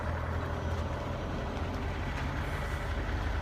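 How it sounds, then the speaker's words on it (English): A truck engine idles and rumbles nearby as the vehicle is moved, a steady low droning roar with no voices. "I'm going to have to move my truck here."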